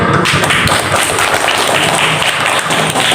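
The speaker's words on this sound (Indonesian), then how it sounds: "Diberikan aplaus tepuk tangan." Loud, dense applause from an audience at a school inter-class speech contest, crisp overlapping hand claps filling the room steadily from start to finish.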